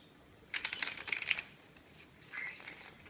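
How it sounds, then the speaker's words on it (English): A deck of tarot cards being shuffled, quick soft riffling bursts close by, then a fainter second flurry, quiet and without talk. "I'm going to shuffle the deck"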